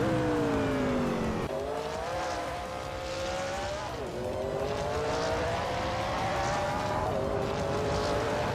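AI-driven race cars in a video game roar continuously, their high-revving engines climbing in pitch and dropping sharply at each gear shift, several times over, with the loud engine drone filling the whole stretch.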